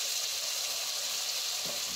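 Onion paste frying over low heat in a pan, a steady close hiss and sizzle running throughout with a brief soft disturbance near the end.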